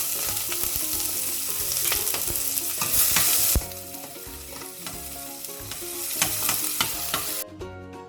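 Onions and green chilies frying with fennel and mustard seeds in hot oil, giving a continuous crackling sizzle with scattered pops and occasional stirring scrapes, close and steady.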